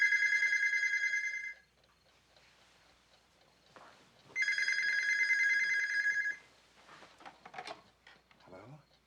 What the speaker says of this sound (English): And then there's the phone call in the middle of the night.